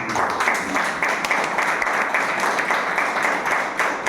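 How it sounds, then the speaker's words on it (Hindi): A training-session audience at a direct-selling seminar claps vigorously, giving a sustained, fairly loud burst of applause with no break throughout. "एक बार जोरदार ताली"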